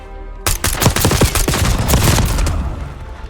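Rapid gunfire in the battle-royale shooter Call of Duty Warzone, loud bursts of automatic fire with sharp repeated cracks packed closely together for about three seconds, no voices.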